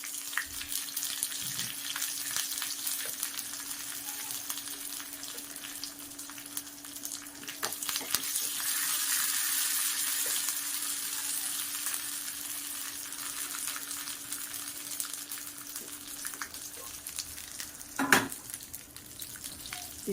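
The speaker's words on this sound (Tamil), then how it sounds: "இப்போ ஒரு தாளிப்பு கொடுத்துடலாங்க" Mustard seeds, urad dal and curry leaves sizzle in hot oil for an onion chutney tempering, a steady hissing crackle with a few sharper pops, moderately close and uninterrupted by talk.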